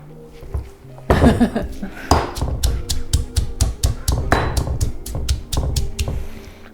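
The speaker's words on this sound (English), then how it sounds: "And then I'm gonna give it a little smasheroo." Garlic, chopped radish greens and onion being smashed by hand in a kitchen, a series of sharp, rhythmic thuds and knocks repeated about a dozen times, fairly loud and close, with no talking over them.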